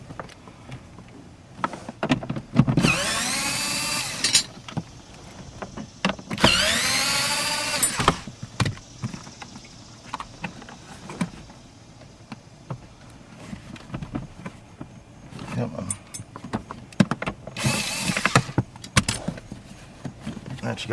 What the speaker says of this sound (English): I'm gonna go ahead and take those 4 bolts out